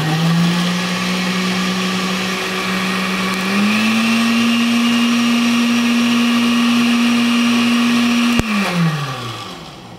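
A blender mixes a pina colada cocktail base, running as a loud steady whirring motor that steps up in pitch partway through, then a click and the motor winds down as it is switched off.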